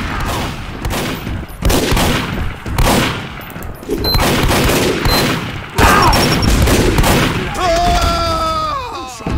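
Heavy gunfire in a video game, a dense run of booming shots and bursts that stays loud and close throughout, with a brief groaning voice and electronic tones near the end.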